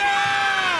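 Crowd noise from spectators lining the streets at Toronto's annual Santa Claus Parade, a loud, continuous roar of voices and cheering, young and old, with bright, sustained tonal layers above.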